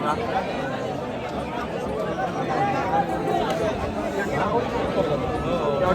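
A large crowd at the Ghodemukh temple fair in Konkan, a steady dense babble of many voices chattering close by, with no pauses.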